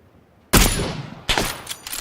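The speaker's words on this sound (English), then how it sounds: "He shot at me." Two sharp gunshots ring out in a PUBG match, a loud close crack followed by a decaying tail, then a second shot and faint follow-up pops.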